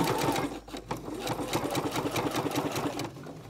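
A sewing machine stitches a fabric placemat in quick, steady rapid-fire bursts, loud and close, with a brief pause partway through before it runs on again.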